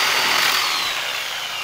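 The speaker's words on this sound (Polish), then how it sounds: "To musimy sobie uciąć gwoździe, bo będą na nie potrzebne." A power saw fitted with a Graphite metal blade cuts through nails in a wooden pallet, a loud, continuous high-pitched grinding buzz held close for the whole short moment.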